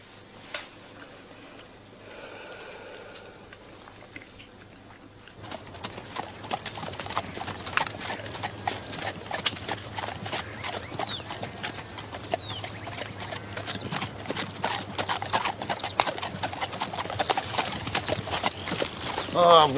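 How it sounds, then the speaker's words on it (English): Hooves of a horse with old shoes and new nails clip-clop steadily on a hard road in a Victorian period setting, a dense, fairly loud rhythmic patter that builds after a quieter opening; no clear neigh stands out. "My horse is lame."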